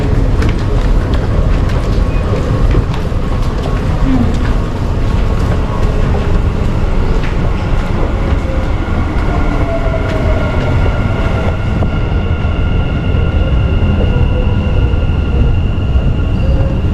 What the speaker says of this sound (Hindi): ट्रेन तो गई निकल